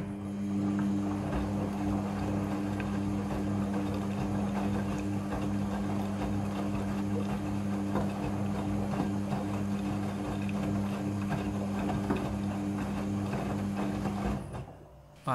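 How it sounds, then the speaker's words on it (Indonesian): A Midea front-loading washing machine runs its second water rinse on pillowcases, giving a steady, continuous mechanical hum and churning drone that holds for the whole stretch and then cuts off sharply at the end. "Setelah proses pemerasan selesai, masuk ke proses pembilasan air yang kedua"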